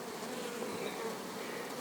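Honey bees buzz in a dense, steady drone from an opened beehive, close and continuous, with no talk over it.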